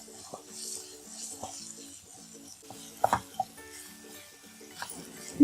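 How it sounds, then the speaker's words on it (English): Ginger garlic paste being sautéed in a pan for prawn curry, with soft stirring and scraping of a utensil against the pan over a faint background sizzle and a few sharper clinks. "saute it well"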